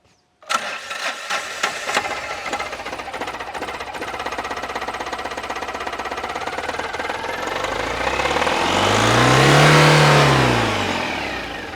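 Homemade vehicle's 800cc two-cylinder turbo intercooled CRDI diesel engine cranks and catches, then idles with a rough knocking clatter before revving up to a loud swelling peak and settling back, close by.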